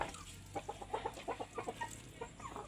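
Native chickens on a farm give soft, quick clucks in a steady run of short calls, fairly faint and slightly distant, with no talking over them.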